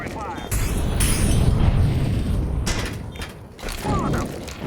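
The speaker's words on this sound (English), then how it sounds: "I'm throwing fire." A Molotov cocktail lands and bursts into fire in a video game, a loud rumbling whoosh of flames with clanking mechanical sounds over it, as players talk.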